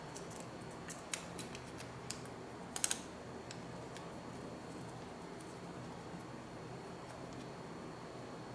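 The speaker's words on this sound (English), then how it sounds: "Take the plastic out. Unwrap the AirTag." Plastic wrap peeled off a new Apple AirTag, faint close crinkles and a few sharp ticks over a quiet hiss, with a small cluster of louder crackles midway.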